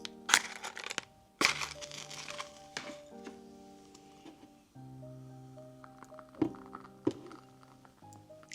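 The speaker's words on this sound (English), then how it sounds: "this candle crackles" A burning candle's wick crackles quietly indoors, giving sharp, sporadic pops and snaps against a hushed background with faint tonal hum.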